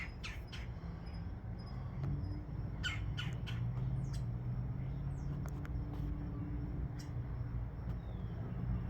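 A starling squawking while chasing a woodpecker away from its nest, with several sharp harsh calls early on over a steady outdoor insect drone, faint and some distance off.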